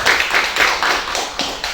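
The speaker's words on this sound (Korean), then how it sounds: "박수 한번 다시 부탁드릴게요" An audience at a film festival screening and talk claps in a short burst, with distinct rhythmic pulses of hand clapping, fairly close and loud with no talking.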